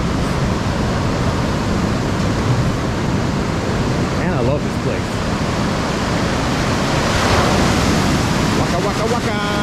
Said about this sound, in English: But it is hard to fight those waves.